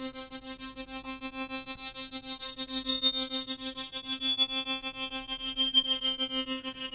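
An Arturia Prophet V synth patch sustaining one steady, bright, buzzy note rich in overtones, its stereo position swept by an LFO, with a soft pulsing wobble and a faint low rumble beneath.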